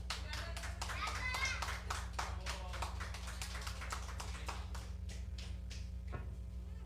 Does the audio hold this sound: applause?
yes